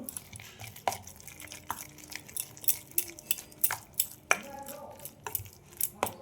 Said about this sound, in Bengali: ইনো দিয়ে দেব, অল্প করে ইনো দিলাম। এটা ভালো করে মিশিয়ে নেব।